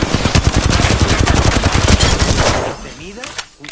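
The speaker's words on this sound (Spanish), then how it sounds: "¡Me están disparando!" Automatic gunfire in the battle-royale game Apex Legends: rapid, loud, continuous bursts of shots that pound steadily for a few seconds before stopping, followed by a few scattered clicks and faint effects.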